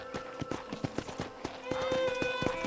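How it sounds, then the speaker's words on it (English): Horse hooves clip-clop in a steady trotting rhythm in the Red Dead Redemption video game, close and fairly loud, with a whinny-like tonal call rising near the end over a sustained musical tone. "I picked out a fine horse for you."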